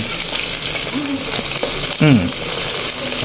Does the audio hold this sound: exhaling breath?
no